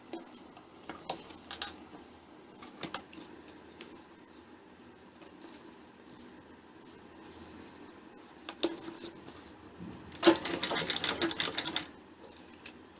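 A sewing machine stitches lines on a belted salwar, with a few scattered short clicks early on and then a dense rapid run of stitching near the end, close and fairly quiet.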